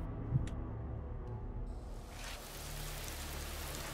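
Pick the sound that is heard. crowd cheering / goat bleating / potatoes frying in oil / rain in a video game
rain in a video game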